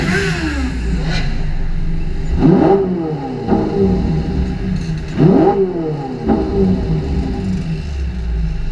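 A Ferrari 458 Italia V8 revs loudly and close, with several sharp throttle blips and rising sweeps standing out over a steady engine rumble, and no talking.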